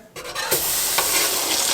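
A loud, dense sizzle erupts as food drops into a deep fryer, the hiss of bubbling oil holding steady after a brief stir at the start.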